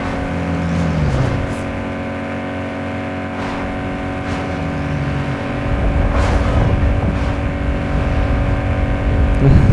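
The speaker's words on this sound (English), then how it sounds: "Listen to the engine." Car engine revving in the racing game Need For Speed Underground 2, a steady droning whine with a low rumble that grows louder toward the end, with no talking.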